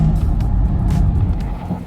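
A Jaguar F-PACE SVR engine runs under 3000 RPM, a steady low rumble close by with slight fluctuations in the throb.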